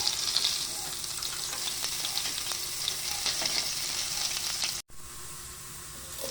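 Garlic frying in a pan for Filipino pork sinigang gives a steady, close crackling sizzle that runs unbroken for several seconds, with a brief dropout near the end before the frying resumes.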